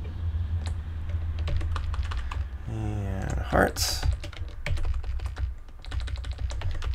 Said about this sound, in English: I know my keyboard's a little loud as well.